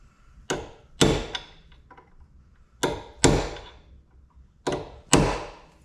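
Sharp hammer blows drive a chisel to stake the front wheel hub nut on a Kia Rio during wheel bearing replacement. The blows come in three pairs of ringing metallic strikes, close and loud, with quiet pauses between.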